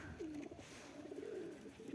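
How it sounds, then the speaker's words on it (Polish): Soft cooing of wild pigeons, a low rolling call repeated a few times, fairly faint against a quiet outdoor background. "Dzikie gołębie lecą."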